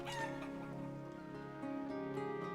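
Chickens in the Life is Feudal: Forest Village video game cluck in a quiet, busy chorus, with one drawn-out crow-like call near the end and no talking.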